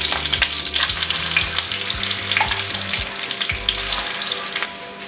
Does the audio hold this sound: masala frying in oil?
yes